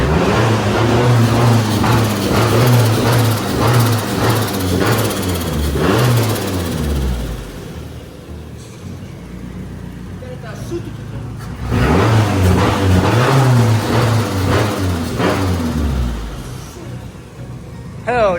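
A Nissan 240SX engine revs and settles toward idle through its exhaust, loud and close, with two strong bursts of revving separated by a quieter lull while people talk nearby.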